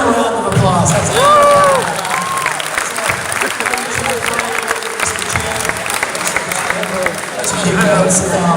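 An audience at a graduation celebration hypnosis show applauds and cheers, a loud, dense burst of clapping and whoops filling the room, with a voice talking over it.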